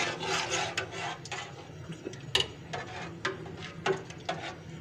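A spoonful of turmeric is stirred slowly into a pot of liquid heating on the flame, giving a close, steady wooden scraping and rubbing with a few sharper knocks.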